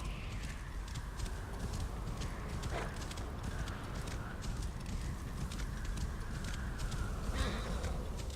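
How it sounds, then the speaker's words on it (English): Horse hooves clip-clopping steadily across desert ground in Assassin's Creed Origins, a continuous rhythmic trot over a low ambient rumble, with no talk. "Is riding through desert on a horse"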